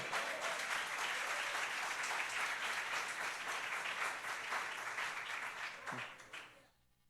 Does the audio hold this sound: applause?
yes